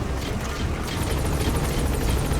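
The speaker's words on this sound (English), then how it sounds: "Support helicopter has arrived." A support helicopter arrives in the video game Metal Gear Solid 5: The Phantom Pain, its rotor producing a loud, continuous broadband whir and rhythmic chop that stays steady throughout.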